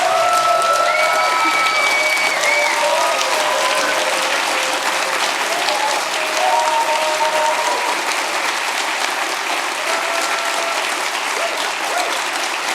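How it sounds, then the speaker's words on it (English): Large conference audience applauding at the closing of PyCon UK 2025, loud sustained clapping with a few scattered cheers and whistles, continuous from start to finish. "So one final thank you and enormous, biggest, largest round of applause to Becky for everything that she's done."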